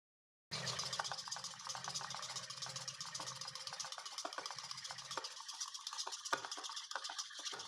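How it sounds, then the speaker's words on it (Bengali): 150 grams of yogurt whisked in a bowl, a steady close rapid scraping and swishing that starts abruptly and runs on without pause. "ততক্ষণে আমি এখানে 150 গ্রাম দই ভালো করে এটাকে ফেটিয়ে নেব"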